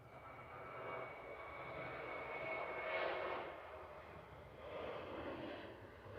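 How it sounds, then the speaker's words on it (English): A Ryanair Boeing 737-800 departs Manchester Airport on a heavy takeoff roll, a steady distant jet roar that swells to a peak midway and rises again near the end, with no voices. "Departing now is Ryanair heading back to Marrakesh with flight 3126 GRUKA 737-800."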